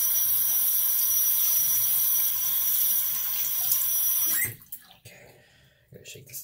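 Warm water runs steadily from a tap to soak a shaving brush, a loud continuous splashing rush that cuts off after about four seconds, leaving quieter handling sounds.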